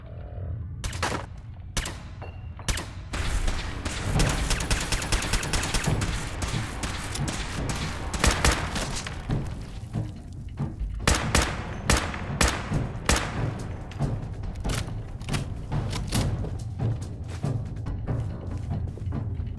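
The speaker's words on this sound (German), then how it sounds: "Das war ja ein Schuss von mir." Dense gunfire in the video game Fallout 4: rapid bursts and single loud shots crack over a low rumbling backdrop, going on steadily for about twenty seconds.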